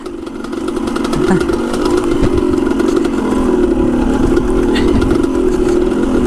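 A dirt bike engine fitted with a Lectron carburetor drones steadily at a low, lugging pitch, loud and close and holding a constant note throughout, with a voice talking over it.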